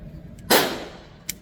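A single sharp gunshot from a Mac 9 DS pistol cracks at an outdoor shooting range, followed by a fading tail and a faint click a moment later.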